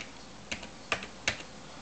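Three quiet, separate keystrokes tap on a computer keyboard, spaced about a third of a second apart, against a faint background hiss.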